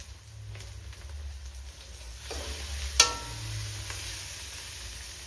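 Coriander and cumin powder frying in hot oil at home, giving a soft steady sizzle with light stirring scrapes and one sharp tick near the middle, no talking.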